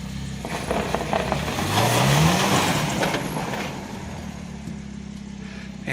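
A pickup truck on Maxxis Trepador tires with grooved, siped treads spins its wheels on icy ground, the engine revving up then easing off in a rising whine over a low steady rumble.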